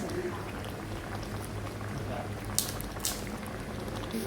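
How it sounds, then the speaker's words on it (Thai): Soup of snakehead fish bubbles in a pot at a low, steady simmer, with a couple of brief clinks or splashes near the end, close and fairly quiet. "แล้วก็รอให้มันเดือดนะคะ"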